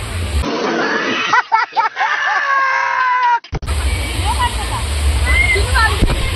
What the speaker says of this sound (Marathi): पण छत्रीशी पण पाणी पडते